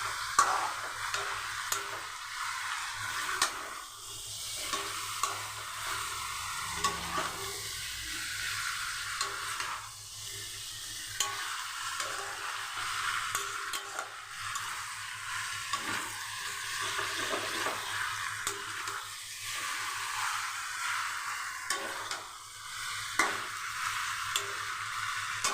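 Masala chicken sizzles steadily in a pan while it is stirred and fried down, with a soft continuous crackle and occasional scraping throughout.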